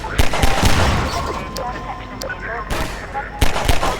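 Gunfire in Half-Life 2 as the player shoots Combine soldiers: loud, close bursts of rapid shots in clusters at the start and end, with game ambience and a talking voice between the bursts.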